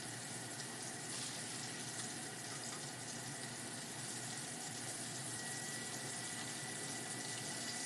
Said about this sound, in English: you put it right over it, and you can strain out the liquid right in your sink